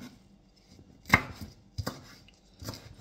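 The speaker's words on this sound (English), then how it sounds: "Cut these up into about 1/2 to 1 inch chunks and put in there" A knife chopping leeks on a cutting board for a country curry, three or four separate crisp chops spaced apart, close and clear with quiet pauses between them.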